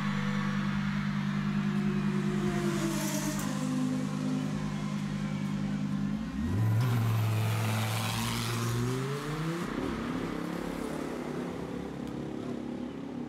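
GT race cars, including GT4-class machines, roar off at the start of a race at the Zhuhai circuit, with loud sustained engine drones rising in pitch as they accelerate and shift, all blending into a dense continuous roar.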